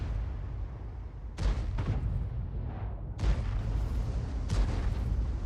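Artillery guns firing in World of Tanks, tier 10 tank-destroyer artillery such as the FV3805 and GW E 100, with three heavy booming shots spaced about 1.5 seconds apart over a constant low rumble of battle.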